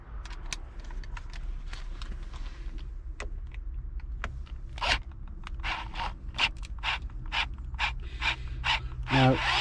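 Driver bit turning a bolt on the gear selector of a W639 Mercedes Vito, a series of close, sharp ratcheting clicks and scraping squeaks in irregular bursts, growing busier toward the end.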